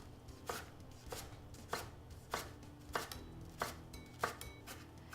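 Knife slicing crosswise through a leek on a cutting board, seven evenly spaced crisp chops at a steady, unhurried rhythm, close and clear with no talking.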